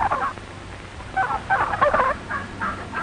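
A gander on a farm honks in a run of harsh, nasal calls, with a short burst at the start and a longer cluster in the second half, close and fairly loud over a quiet background.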